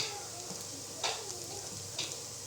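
Künefe fries in a pan at home as it is turned for even browning, with a faint, soft sizzle and a couple of light clicks from the pan.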